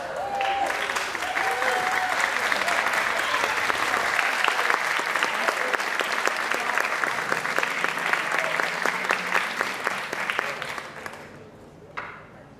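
A standing audience at a formal organizational meeting gives a long, steady round of applause. The clapping stays dense and even for about eleven seconds, then fades out with a few last claps.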